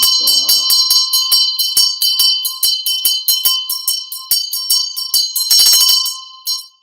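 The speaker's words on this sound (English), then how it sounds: "Then you ring the bell." A Tibetan Buddhist ritual bell rings close and loud. Rapid, even strikes produce a bright, shimmering metallic tone, with a brief voice near the start and a denser flurry of rings toward the end.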